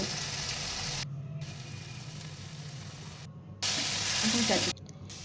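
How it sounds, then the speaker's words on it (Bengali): Masala of fried onion, chopped tomato, salt, turmeric and chilli powder sizzles steadily in a pan while being stirred, a close continuous hiss with brief drops where the stirring pauses. "এবার বেশ কিছুক্ষণ নাড়াচাড়া করে নেব।"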